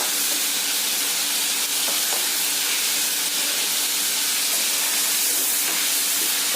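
Prawns fry in hot oil in a kitchen pan, a loud, continuous hissing sizzle that holds steady from start to finish with no talking.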